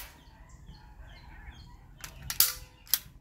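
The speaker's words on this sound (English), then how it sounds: "Just a few short staples later and shooting." A staple gun fires a couple of sharp snapping shots near the end while building a chicken coop, following quieter shuffling and faint background chirps.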